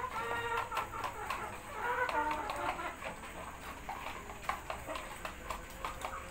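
Sammo hens peck eagerly at papaya leaves, giving off soft clucks and scattered sharp pecking taps close by, over a low steady background.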